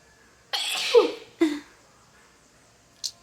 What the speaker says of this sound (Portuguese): vontade de espirrar